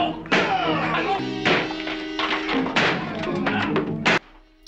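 A flimsy door being forced and broken down in a 1961 Twilight Zone episode, with heavy thumps and cracks mixed under shouting voices and dramatic music.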